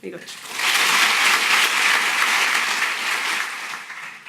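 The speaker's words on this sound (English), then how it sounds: "I hope that you join me in a big round of applause because they all did a marvelous job" An audience at a university new graduate student orientation applauds after the speeches, a dense, sustained round of clapping that swells quickly and tapers slightly toward the end.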